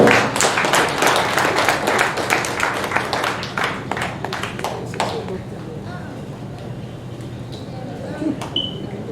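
A church congregation at a Sunday health service claps in quick applause, dense and lively for about five seconds before thinning into a few scattered claps and a quiet room.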